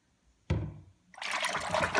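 Synthropol poured into a big bowl of warm water to prepare for yarn dyeing, a sharp knock followed by a close, steady liquid trickle and splash.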